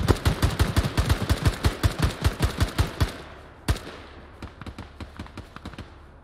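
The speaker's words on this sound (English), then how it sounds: "Heavy machine gun southwest." A heavy machine gun in ArmA 3 hammers out a rapid, loud burst of about three seconds, then falls silent before a single far shot and scattered faint pops echo across the distance.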